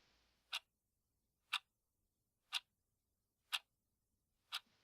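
A clock ticks loudly in an otherwise silent room: five sharp, evenly spaced ticks about a second apart, each clear and isolated against near silence.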